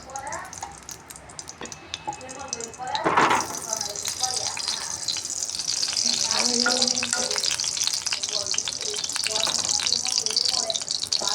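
Oil and ghee sizzle in a hot pan, a steady bright frying hiss that rises sharply a few seconds in and keeps going, with stirring and clinks of utensils while people talk nearby.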